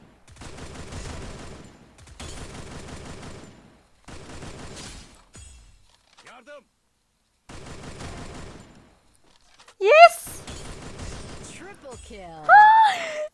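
Bursts of automatic gunfire in the Free Fire shooter game, several sustained sprays spaced a second or two apart, followed by whooshing effects, with someone talking over them.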